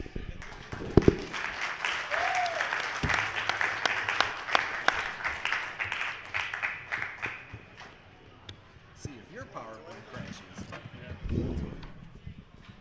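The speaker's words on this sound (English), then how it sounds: "Everybody, clap along." Audience clapping at a pinball seminar featuring Jersey Jack Pinball, irregular and moderately loud, with speech and other sounds breaking in over it and the clapping thinning toward the end.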